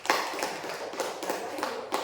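Classroom applause from students for group 1, a small cluster of quick, fairly faint claps tapping in an uneven rhythm.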